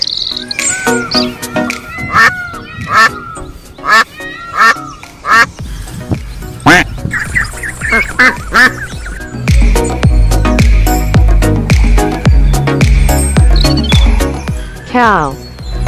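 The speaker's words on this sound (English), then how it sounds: "Duck." Duck quacking in a toy miniature farm scene, with repeated nasal quacks spread across the stretch and mixed with chirpy squeaks, busy clatter and a voice talking over it.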